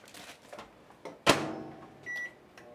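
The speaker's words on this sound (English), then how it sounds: "Below is your microwave." A built-in convection microwave in a 2021 Airstream Globetrotter 30RB travel trailer gives a sharp door clunk followed by a short electronic beep, heard close and fairly quiet over faint background rustle.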